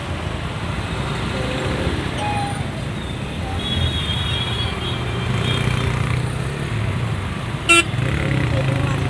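A two-wheeler rides through busy city traffic with steady road and engine rumble, passing motor noise and a short sharp horn toot near the end, while people talk over it.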